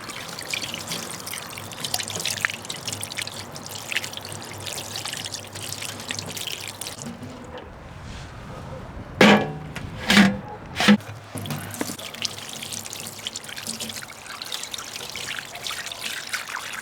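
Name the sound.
rinsing salt off dorado fish with running water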